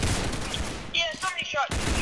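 Rapid bursts of gunfire in a Roblox video game, dense crackling shots mixed with game sound and some voice activity, fairly loud throughout.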